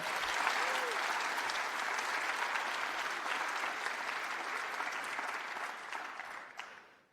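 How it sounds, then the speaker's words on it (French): A large audience at a French healthcare conference plenary breaks into sustained applause, a dense, even roar of many hands clapping that holds steady for several seconds and then fades out at the end. "on peut applaudir."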